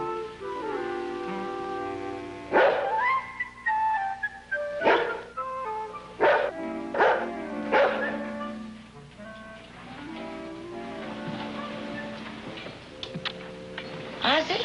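Dog barking in a sitcom scene, several sharp barks in bursts, mid-distance, mixed with background music and some quieter sounds.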